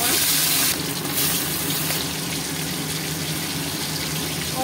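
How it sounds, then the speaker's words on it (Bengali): Hilsa fish coated in salt and turmeric fries in hot mustard oil in a kadai, giving a loud, continuous sizzling hiss that eases slightly after the first second. "প্রথমে লবণ হলুদ মেখে মাছটাকে আমি হালকা করে ভেজে নেব"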